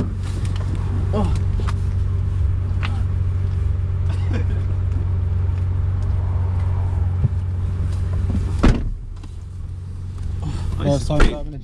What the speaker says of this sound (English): First time driving a GTR